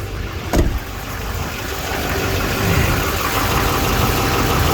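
A 2009 Duramax 6.6L LMM turbo diesel with a bad leak idles steadily just after starting, a continuous, clattering drone with one sharp knock near the start.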